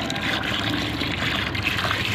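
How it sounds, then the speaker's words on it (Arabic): Fresh water poured over wheat grains in a basin to rinse them, a soft steady trickling splash heard close and quiet, with no voices. "نحط عليها ميه تاني"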